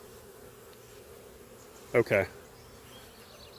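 A swarm of honey bees carrying several mated queens gives a faint, steady buzzing hum throughout, with a brief spoken word cutting in midway.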